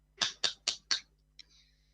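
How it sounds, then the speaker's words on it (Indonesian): Students in a classroom clap four sharp, evenly spaced beats together, a quick rhythmic pattern followed by a faint single tap and quiet room tone. "Ganti tepuk tangan lagi anak-anak"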